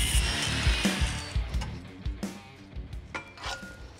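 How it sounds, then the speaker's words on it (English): A cutoff wheel grinds through welded tacks on suspension mounts of a DJ5 Jeep, a loud harsh whine at first that breaks into choppy bursts and stops as the cut finishes. "We'll use a cutoff wheel to make quick work of our tacks."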